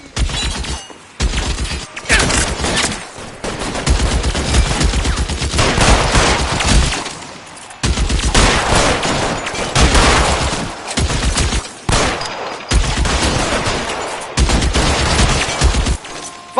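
Sustained gunfire in the video game L.A. Noire, loud and close, rapid bursts and volleys running almost continuously with a few brief pauses between strings of shots.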